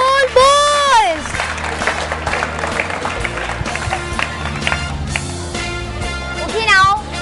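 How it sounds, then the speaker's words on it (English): A crowd applauds the winning boys' team at a children's prize event, with clapping and cheering blended under loud music and voices, rising again near the end. "Clap for boys."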